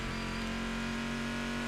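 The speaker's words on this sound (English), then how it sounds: "try not to have your ears blasted from this car. It is loud." A loud race car engine from a sim racing game at Sebring International Raceway holds a steady, droning, high-pitched tone that stays close and constant throughout, with no talking.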